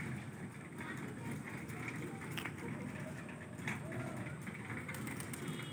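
Pigeons gather to eat wheat near their small house, making soft, faint cooing under a low background hiss, with voices talking nearby.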